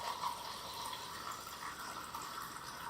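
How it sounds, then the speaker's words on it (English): A steady, quiet rush of liquid as E6 film developer is poured into a developing tank, continuous and even throughout. "Pour the developer in."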